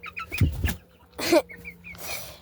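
Laying hens in a pen give short clucks and squawky calls, a few bursts close by with quieter chatter between.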